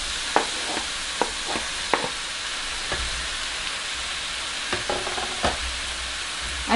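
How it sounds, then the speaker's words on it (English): Steak and kidney pieces browning in a pan with a continuous close sizzle, punctuated by sharp clinks and scrapes as they are turned; no voices. "I'm just going to kind of get these guys brown for a little bit"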